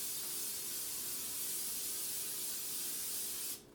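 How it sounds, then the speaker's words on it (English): A continuous close hiss from an aerosol cooking spray sprayed onto a baking pan, held for several seconds, then cutting off abruptly. "Liberal amount of cooking spray."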